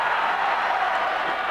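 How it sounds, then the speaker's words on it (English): A steady roar of a wrestling crowd at a 1997 Frontier Martial Arts Wrestling deathmatch event, a dense, even wash of cheering and clapping that holds at the same loudness throughout. "Hear the crowd really excited"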